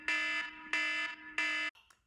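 Three loud, harsh electronic Scattergories timer alarm beeps in an even rhythm, each lasting about half a second, then a brief fainter tone as it cuts off.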